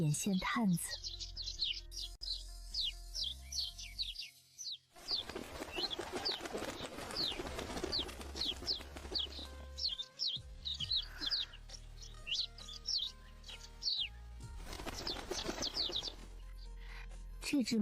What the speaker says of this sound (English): This sparrow is clever and bold.